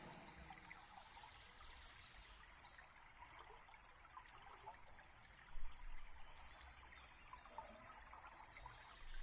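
A gentle river flows quietly in a peaceful outdoor setting, a soft continuous trickle with faint birdsong in the background and no voices.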